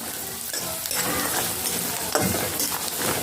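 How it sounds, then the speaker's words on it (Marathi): Peanuts, cumin and sesame seeds fry in a pan for a Maharashtrian peanut chutney, giving a loud, steady close sizzle with scraping stirs throughout. "त्यासोबतच तीळ देखील घालायचे आहे आणि आता हे छान तळून घ्यायचे आहे."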